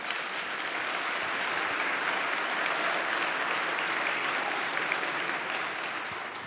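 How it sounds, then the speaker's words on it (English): Sustained applause from a large audience at a live conversation event with Mark Zuckerberg, a dense, even wash of many hands clapping alone with no talk for several seconds. "That's the first time I've ever gotten applauded."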